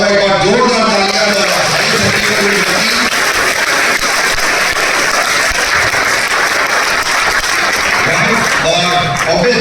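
Audience applause at a business event, a loud dense clapping wash lasting throughout, with a voice speaking over it at the start and end.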